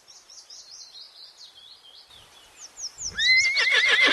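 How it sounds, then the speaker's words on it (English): A horse gives a loud, shrill whinny near the end, after a stretch of quiet bird chirping. "H for horse."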